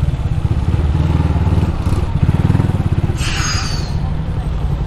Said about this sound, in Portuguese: Caraca, a moto tem turbo aí.